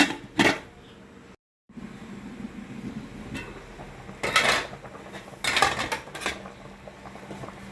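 Metallic clanks and scrapes as a lid is set on a cooking pot of simmering sinigang na bangus, with a few sharp close knocks separated by quieter stretches of kitchen noise.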